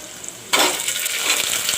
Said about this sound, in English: Now I will put in the potatoes